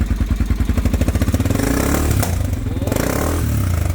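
A Honda XR250 dirt motorcycle engine idling with a deep, even thumping beat up close, then revving briefly and settling back into the steady low thump.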